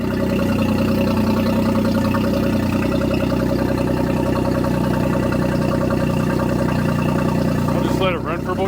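A 2024 Tohatsu MSF40A jet outboard engine idles with a steady, loud, even mid-pitched drone and tonal hum that holds unchanged throughout, with a brief rustle near the end.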